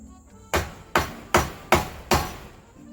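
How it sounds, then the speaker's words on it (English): Five sharp hammer blows fall on quarter bead trim at an even, steady pace, each a crisp close knock with a short ringing decay. "I normally don't like hammering"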